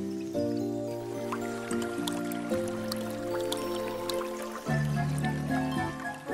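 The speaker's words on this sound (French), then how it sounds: "Pimpin, ce n'est que de l'eau." Cartoon water dripping and splashing from a caught cloud, a quick series of bright drips and liquid plinks over a light musical backing.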